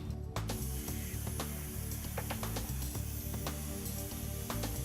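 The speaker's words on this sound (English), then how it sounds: "The pilot arc transfers to the workpiece and becomes the cutting arc." A Hypertherm Powermax125 plasma cutter arc slices through a metal workpiece, giving a loud, steady hissing roar over a low electrical hum, with faint clicks scattered through it.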